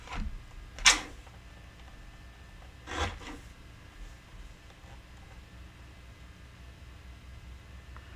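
A paper trimmer slices through cardstock in two quick, sharp sliding cuts a couple of seconds apart, close by, followed by quiet.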